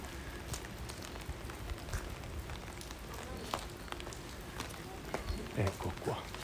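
Rain falling steadily at Yasaka Shrine in Kyoto, a dense hiss of drops with scattered pattering, while someone talks over it.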